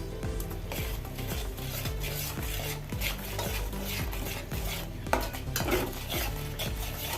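Mackerel fish pickle masala is stirred in a pan, a spoon scraping and clinking against the metal in a steady repeated rhythm over a low bubbling sizzle, close and alone without talk.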